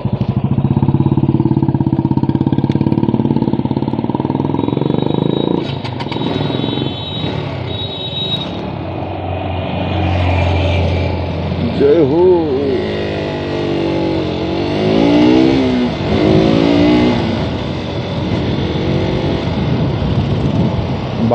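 KTM RC200 BS6 sports motorcycle, its single-cylinder engine running close by: a steady idle burble broken by repeated sharp revs that rise and fall in pitch, loud and without talk.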